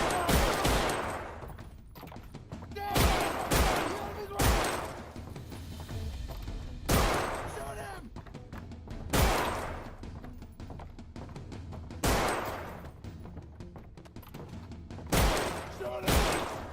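Gunfire in Half-Life: Alyx, a series of loud, sharp shots at irregular intervals, some in close pairs, with a busy game background in between.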